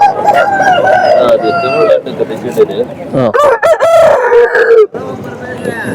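Roosters at the Chintamani hen market, including a fighting breed, crow repeatedly and loudly up close, several crows overlapping amid clucking and market chatter, with people talking throughout.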